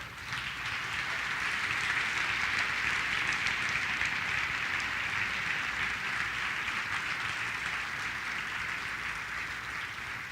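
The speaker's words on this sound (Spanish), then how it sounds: "Vamos a dar un aplauso." A church congregation applauding, a broad, steady wash of many hands clapping at a distance, evenly sustained for about ten seconds with no voices standing out.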